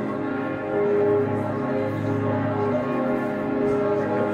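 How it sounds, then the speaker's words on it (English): Church bells ring out on a French street on Christmas Eve, a dense, sustained wash of overlapping tolls that stays steady and fairly loud throughout, with no talking over it. "French bells."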